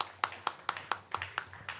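Slow, evenly spaced claps welcome a guest at a cow-protection organisation's anniversary event, about seven sharp strikes in a steady rhythm, close and distinct against a quiet background.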